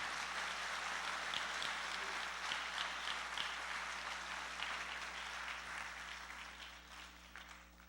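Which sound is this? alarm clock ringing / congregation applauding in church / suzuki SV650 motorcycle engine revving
congregation applauding in church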